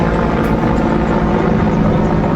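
Loud, continuous whirring drone of a helicopter's rotors and engine, close overhead and steady throughout.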